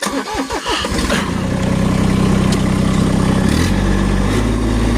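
A vehicle's engine in four-wheel drive low range strains to pull a large bush out by its roots, starting with rough chugging and then settling into a loud, sustained, laboring drone close to the listener, with no talking.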